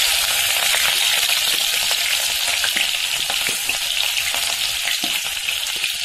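Finely chopped green chilies sizzle in hot oil for a tempering, a steady close crackling hiss with small spattering pops and no talk.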